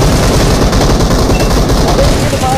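Loud, continuous rapid gunfire plays in PUBG Mobile on the Livik map, with dense bursts packed tightly together in the game's mix and no gaps.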